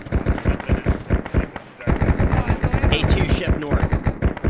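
Rapid gunfire crackles through an Arma 3 firefight, sharp repeated shots in quick bursts with a brief lull before a denser volley, while players talk over the radio amid the shooting.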